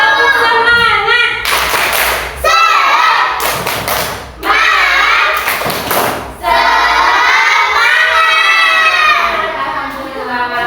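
A school class of children claps a rhythmic cheer pattern in loud bursts, with pauses between sets as a teacher leads, the group clapping close and in unison.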